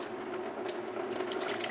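Coolant runs steadily out of a Jeep JK's water pump area into a drain tray, a soft continuous splashing trickle heard close and alone.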